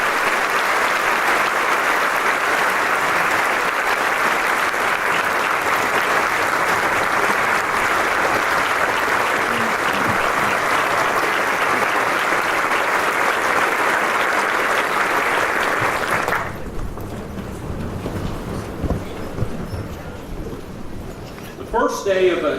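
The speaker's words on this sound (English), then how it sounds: "Will you all please join me in a round of applause to say thanks for his and our other mayors' service to us." An audience at a city mayoral inauguration gives a long, loud round of applause in thanks for the mayors' service, steady clapping for about sixteen seconds before dying away into quieter room sound and a voice.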